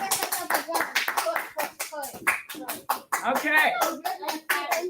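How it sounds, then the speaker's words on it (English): A small group claps hands in a loose, uneven round of applause at close range, the slaps sharp and separate, with children's and adults' voices talking over and between them. "Let's give a round of applause"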